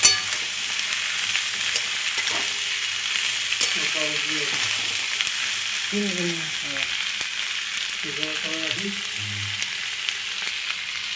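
Ivy gourd (kundri) frying in a pan, a dense, even hiss of hot oil filling the whole stretch, with faint background voices murmuring briefly under it.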